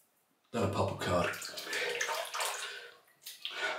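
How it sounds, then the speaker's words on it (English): Water gushing and gurgling from a bathtub as it drains, starting abruptly and running at moderate volume, with a short pause before the flow resumes. "Let the water out."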